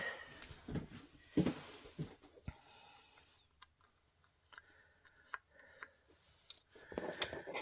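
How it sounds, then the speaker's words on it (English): Scissors snip through paper while cutting out a small heart for a papercraft project, a series of quiet, close, crisp cuts in irregular bursts separated by short pauses. "We'll cut out this little heart here."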